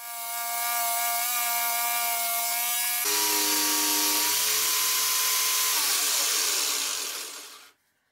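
A jigsaw cutting a bevel into wood with a bevel cutting jig, a steady loud buzzing cut that shifts pitch partway through and runs continuously before stopping abruptly near the end.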